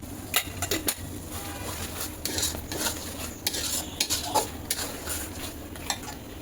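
Egg korma masala, with ground cashew paste and a little sugar just added, is stirred in a pan, giving repeated metallic clinks and scrapes of the spoon over a low, steady sizzle.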